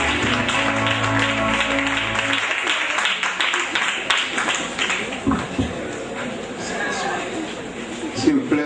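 Audience applause at a diploma ceremony, a dense patter of clapping and crowd chatter rising and fading beneath a speaker's amplified voice in French.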